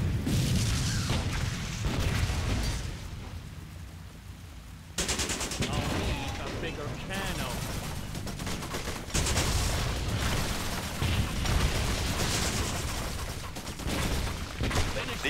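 Battle in the wartime strategy game Blitzkrieg 3: machine-gun fire, rifle shots and booming explosions go on almost without a break, loud and dense, with abrupt shifts in the mix and occasional distant voices beneath.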